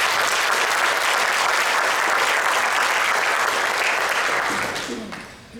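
Steady, full applause from an audience at a teachers-of-the-year recognition event, dense clapping holding even for several seconds before tapering off at the end, with faint voices mixed in.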